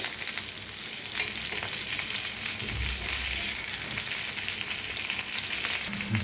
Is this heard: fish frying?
yes